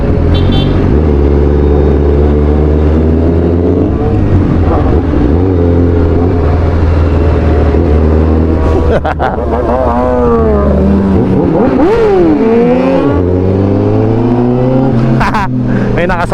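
A Kawasaki ZX-6R motorcycle rides alongside on the road, its engine droning loud and close with shifting revs and pitch sweeps, while people talk over it throughout.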